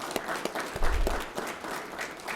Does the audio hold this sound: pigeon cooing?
no